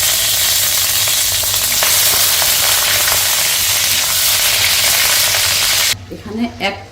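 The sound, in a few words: butter frying in hot soybean oil in a wok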